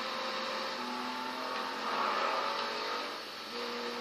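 A car driving in the video game Saints Row 3, with a steady engine drone and faint hum holding throughout, loud and continuous with no talk.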